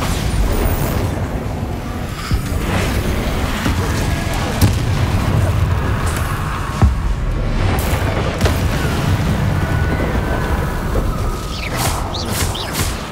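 A Bombarda spell blast in the Hogwarts Legacy video game, a loud, sustained rumbling roar of booms and bursts under game sound, with scattered sharp pops throughout.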